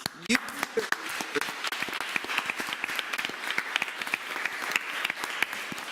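An audience claps through a school committee meeting, producing a sustained patter of many hands that stays fairly even in level throughout.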